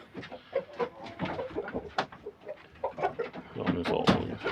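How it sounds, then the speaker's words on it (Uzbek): Rooster clucks and calls in short, uneven bursts at moderate distance, with other bird sounds mixed in and faint voices in the background. "Mana aka-ukalar ikkinchi xo'rozimiz."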